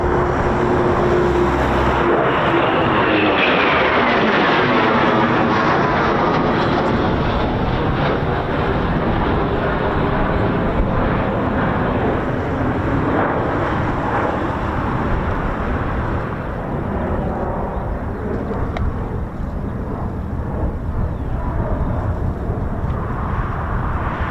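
Eurofighter Typhoon FGR4 jet flying at an air show, a loud, continuous broadband roar with slowly shifting engine tones as it passes, filling the whole stretch.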